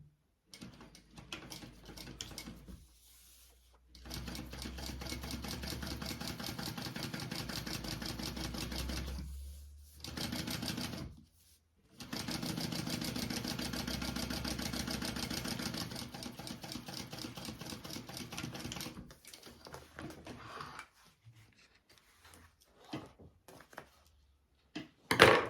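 A sewing machine top stitches a lengthwise-folded strip of fabric in several bursts of steady whirring, separated by short pauses, close and fairly loud with no talking.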